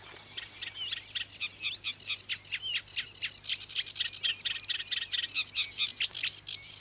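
A reed warbler sings in a reed-bed nature reserve, a continuous chattering stream of rapid, scratchy notes and trills, close and clear over a low steady hum.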